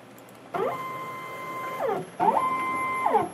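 An automated optical inspection machine runs in two cycles, each a motor whine sweeping up, holding steady tones for over a second, then sweeping down, with a faint constant high background whine.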